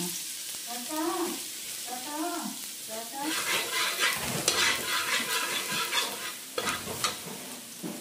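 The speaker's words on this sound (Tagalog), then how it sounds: "Lagyan na po natin yung ating bawang." Garlic hits a hot pan and sizzles loudly for a Filipino java rice dish, with scraping stirs and a bright frying hiss that swells after someone speaks briefly at the start.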